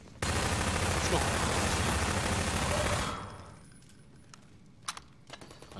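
Rapid gunfire from a weapon in the video game Half-Life 2, a loud dense burst of shots lasting about three seconds, then a few fainter clicks and clatters.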